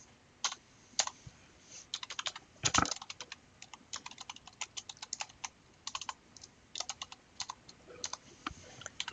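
Fingers tap on a computer keyboard in quick, irregular bursts of crisp clicks, close and fairly quiet, with short pauses between runs of keystrokes.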